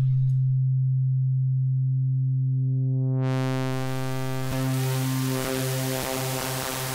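A Bitwig Phase-4 synthesizer holds a steady pure sine tone; as feedback phase modulation is raised, harmonics pile up and the tone turns into loud, dense hissing noise that keeps sounding alone.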